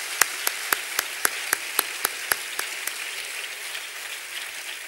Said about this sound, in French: je vais demander à l'assistance, pour vous féliciter, de vous applaudir encore une fois